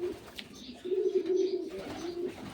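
Pigeons coo at a pigeon farm, a low rolling cooing that starts softly and swells into a steady, fairly close murmur through most of the stretch, with a faint higher chirp early on.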